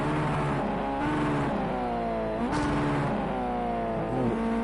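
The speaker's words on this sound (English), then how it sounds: "Revving that engine nicely there" Ginetta GT5 race car engine in Project CARS 2, racing at Oschersleben: loud, close revving with engine pitch rising and falling through gear changes, one sharp swell midway, continuous with no talk.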